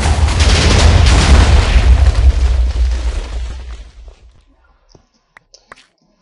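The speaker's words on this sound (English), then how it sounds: "That's a big explosion." A house blows up in the Minecraft video game with a loud, booming explosion that rumbles heavily for several seconds, then fades into near silence broken by a few faint clicks.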